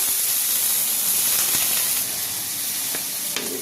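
A steady, close sizzle of chicken frying in a hot pan for chowmein, crackling evenly throughout with a few brief louder pops.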